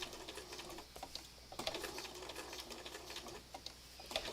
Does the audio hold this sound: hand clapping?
no